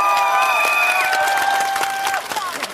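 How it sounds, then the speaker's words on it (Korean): Applause and cheering from a crowd at an outdoor political rally in Pyeongtaek, dense and steady for about three seconds, with a few brief shouts and sustained tones riding above the clapping. "맞으면 박수 부탁합니다."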